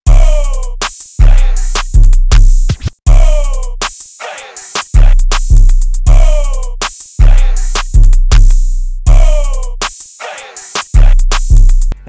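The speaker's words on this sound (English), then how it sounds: "So all the drums together sound like this." FL Studio hip-hop drum beat with a booming 808 pattern and chanted vocal samples: a loud, steady looping groove of punchy kicks, snappy hits and bouncing sub-bass, repeating in bars with brief gaps.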